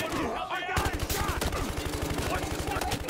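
Rapid automatic gunfire from the video game Battlefield Hardline rattles in a fast, even burst of sharp shots after a brief lead-in, loud and close.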